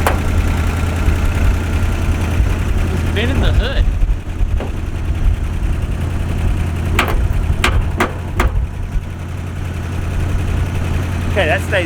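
Rebuilt 1973 Chevy square-body 1-ton truck engine running loudly at its first start in about 13 years, a steady rumble broken by a few sharp pops and clicks.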